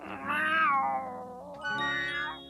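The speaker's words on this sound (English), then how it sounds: "Salem, it's times like these that I envy you being a cat." A cat gives two drawn-out meows in quick succession, the first rising then falling, the second shorter and higher, close and clear with no talk.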